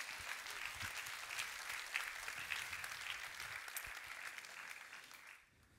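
A church congregation claps in steady, fairly faint applause that runs for several seconds, then tapers off and drops away at the end.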